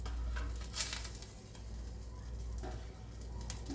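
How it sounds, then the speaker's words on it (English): Broccoli cooking in a roasting pan over high heat gives a steady, fairly quiet sizzle and frying hiss with a few soft stirring clicks and pops scattered through. "Now I'm using my roasting pan on high heat just to get all of this cooked up"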